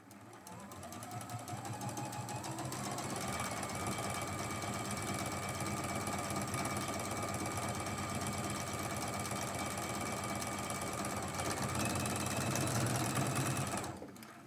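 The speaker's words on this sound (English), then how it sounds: "While we're sewing these pieces together" A sewing machine joins quilt pieces with a long, steady, close-up motor hum and rapid needle rattle, running continuously for over thirteen seconds before winding down at the end. Nobody talks over it.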